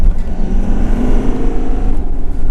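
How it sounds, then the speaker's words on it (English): A car skids around a corner with a loud exhaust, a dense, close, continuous engine roar with rough low-end rumble and rising revs throughout. "Did some skids around the corner here."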